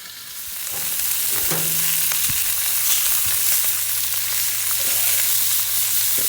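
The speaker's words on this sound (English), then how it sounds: "We're gonna let them sizzle for a little bit, making sure all of them are flat against the griddle." Chuck roast steak pieces pressed flat on a hot griddle give off a loud, steady, continuous frying sizzle, close up, with a faint low hum and an occasional light clink, and no talking.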